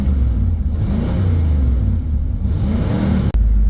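Close and loud, a carbureted Chevrolet Camaro rumbles in freezing weather just after a cold start, its engine revving unevenly in deep surging waves with a brief dip near the end.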